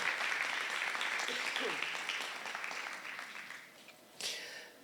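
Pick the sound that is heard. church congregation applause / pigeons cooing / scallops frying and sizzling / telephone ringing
church congregation applause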